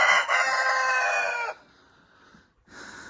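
A rooster crows loudly and close by in a newly built chicken coop, the long call breaking off into quieter clucking from the hens, then a short burst of sound returns at the end.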